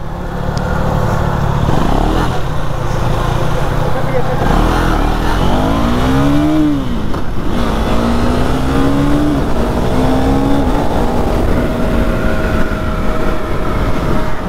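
A KTM Duke 390 motorcycle being ridden, its engine loud and close, revving up and dropping through repeated rising pitch sweeps as it accelerates and shifts, with a constant roar throughout.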